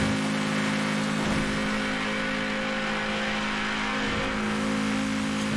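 A McLaren F1 supercar's engine drones loudly and steadily during a racing game time trial, holding a sustained high-revving tone with broadband road and wind rush throughout.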